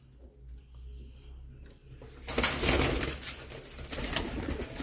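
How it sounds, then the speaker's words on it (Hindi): Pigeons coo repeatedly at close range, a low throaty burble with some rustling and flutter, starting quietly and growing busier. "ये कबूतर है, इसके भी 2 बच्चे हैं"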